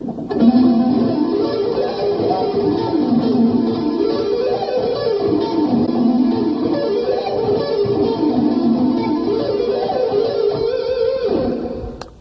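A clean electric guitar plays a flowing run of single notes up and down a scale, steady and close, ending with a brief final note.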